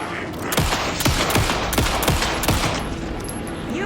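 Rapid gunshots from the video game Alan Wake 2, a burst of sharp repeated cracks close and loud over a noisy background, without clear speech.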